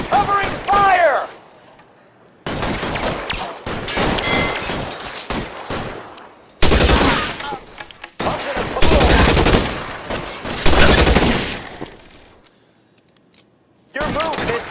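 Heavy gunfire in the LA Noire video game during a shootout, long loud volleys and clattering bursts with gaps of near silence between them.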